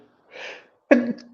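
A single sharp sneeze bursts out near the mic after a short, breathy intake, then quickly fades.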